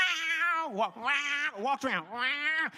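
A voice imitates a cat meowing, drawing out three long, wavering meows one after another, each rising and sliding down in pitch, loud and close with nothing else behind them.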